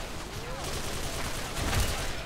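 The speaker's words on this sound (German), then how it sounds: "der andere gibt hier einfach nur Sperrfeuer" Suppressive gunfire from the shooter video game S.K.I.L.L. during a team deathmatch rattles on as a faint, dense and continuous stream of distant shots, with low rumbling bursts underneath and a swelling near the end.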